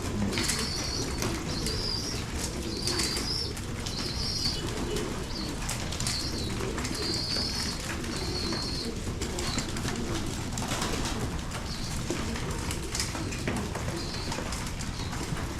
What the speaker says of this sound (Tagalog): Ganda yung ating mga ibon